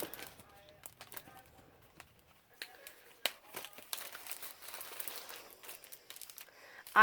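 Paper being handled and crinkled while pulling out scraps for a chunky botanical junk journal: scattered soft rustles and crisp crackles, busier in the second half, close and fairly quiet.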